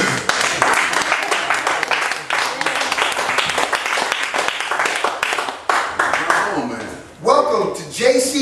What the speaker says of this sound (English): give me a hand clap, y'all